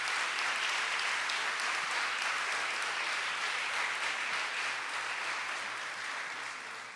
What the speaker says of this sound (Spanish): un aplauso para Carlos Fernando Chamorro y su equipo en este aniversario